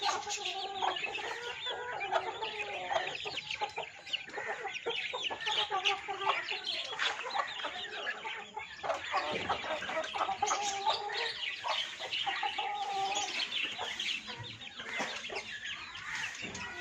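Month-old farmed chicks cluck and cheep continuously in a dense, overlapping chorus of close, moderately loud calls with no pauses.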